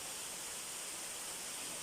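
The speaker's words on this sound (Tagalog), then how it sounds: "Yan po ang Wigmore Falls dito sa isla, sa Cook Island." Wigmore Falls in the Cook Islands, running with a weak flow, gives a soft, unbroken rushing hiss that stays faint and even, with no voices.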